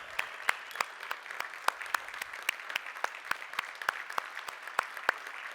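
Seminar attendees at the Prix de West art event welcome a guest with sparse, quiet applause: distinct individual claps ring out in an uneven, scattered rhythm from a small crowd in a room.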